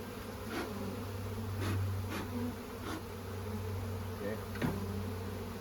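Dense, steady buzzing of many honeybees close by at an open hive being split, with a low hum underneath and occasional louder passes of individual bees.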